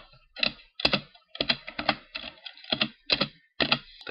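Someone types a password on a computer keyboard in short bursts of crisp key clicks separated by brief pauses, close up and with no talking.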